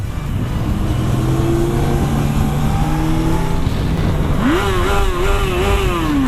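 A Kawasaki Z800 four-cylinder motorcycle accelerates hard through its gears, the engine note climbing in loud rising sweeps with short dips at each shift, heard close over road and wind noise.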